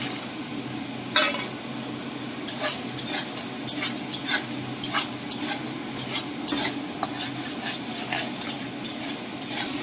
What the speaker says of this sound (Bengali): বাদামটা আমি এবার তেলে ভেজে নিচ্ছি